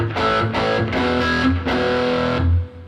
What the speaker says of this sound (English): You can add a distortion. Let's go to the effects so I can bring in my gain.